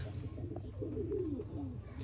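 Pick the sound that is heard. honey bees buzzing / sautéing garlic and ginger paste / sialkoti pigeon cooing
sialkoti pigeon cooing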